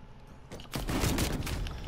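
Street Sweeper shotgun firing in Call of Duty Cold War, a burst of loud blasts that merge into a dense rattle of gunfire after a brief quieter lead-in.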